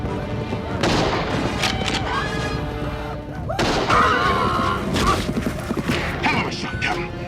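Gunfire erupts during a frontier skirmish on horseback, with several loud, sharp shots and booming reports over galloping hooves and voices talking.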